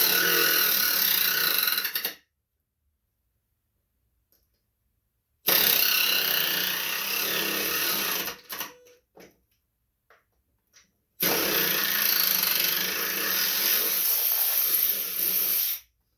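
A cordless power tool with a 3/8 socket runs in three loud, sustained bursts while removing a bolt from a Poulan Pro riding mower, with brief silent pauses and a few faint clicks between runs.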